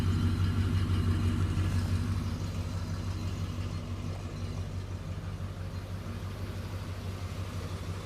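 A 1973 Ford Galaxie 500 with a 400 V8 and factory single exhaust idles steadily with a deep, even rumble and low-pitched throb, close by and alone, easing slightly in volume after the first two seconds.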